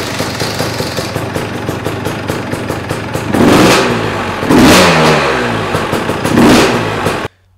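A KTM or Husqvarna motorcycle engine idles with a steady ticking putter, then is blipped through three loud, rising revs before cutting off abruptly.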